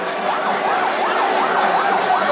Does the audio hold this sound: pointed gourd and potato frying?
no